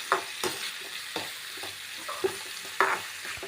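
Chopped onions sautéing for pepper chicken sizzle steadily in a pan, close and moderately loud, with a few scraping stirs of a spoon cutting through the crackle.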